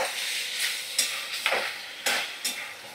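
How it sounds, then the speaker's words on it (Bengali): Boiled macaroni pasta with tomato ketchup sizzles in a pan, a continuous close hiss broken by several bursts of stirring and tossing roughly every half second. "এবার দেখো আমি একটু টমেটো কেচাপ দিয়ে দিচ্ছি। আর এই ম্যাকারনি পাস্তাগুলো দিয়ে দিলাম"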